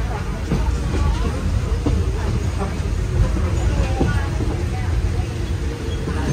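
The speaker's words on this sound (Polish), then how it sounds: "To jest klimatyzacja w tutejszych pociągach." Air conditioning hums steadily inside a moving Thai train, a dense, even roar mixed with rail rumble and faint background chatter throughout.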